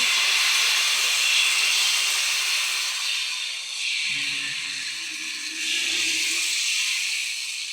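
An iron griddle on a gas flame gives off a steady, fairly loud sizzling hiss of steam for the whole stretch, with faint low murmurs now and then beneath it and no clear speech.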